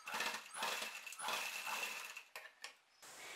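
A sewing machine stitches a diagonal seam across fabric for the neckline of a box-pleat skirt-and-top set, running in several fast, steady bursts with short pauses between, close and fairly loud, no voices.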